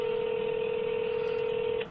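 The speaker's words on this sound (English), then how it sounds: "I'm going to call the person about it and get the phone here." Phone dialing tone inside the Farming Simulator 19 video game, a steady sustained electronic tone held for nearly two seconds, loud and alone before cutting off at the end.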